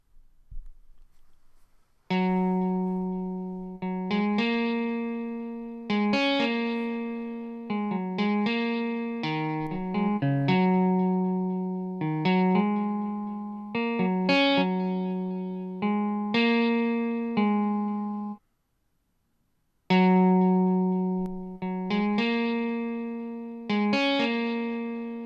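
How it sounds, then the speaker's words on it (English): Guitar track played through the Rough Rider 3 compressor effect app on iPhone or iPad: a steady, loud sequence of sustained chords and notes with a brief gap before resuming, heard alone without talk. "now we're going to hear the Rough Rider 3 on the guitar track"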